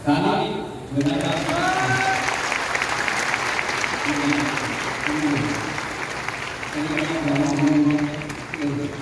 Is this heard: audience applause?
yes